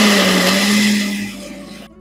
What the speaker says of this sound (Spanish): Y vamos a licuar muy bien.